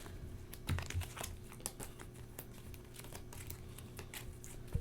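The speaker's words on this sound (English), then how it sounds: "I guess I need to shuffle these up since I need 2 more." A deck of playing cards is shuffled during a Volfyirion board game: soft riffling, crinkly flicks and taps in quick irregular bursts, faint and close with no talking.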